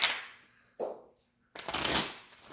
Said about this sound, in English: Still kind of stiff and a little bit difficult to shuffle